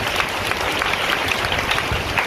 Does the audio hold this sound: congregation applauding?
yes